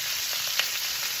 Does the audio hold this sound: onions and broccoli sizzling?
yes